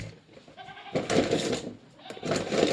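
A goat bleats in two loud, wavering calls close by, with someone speaking in a domestic setting between them.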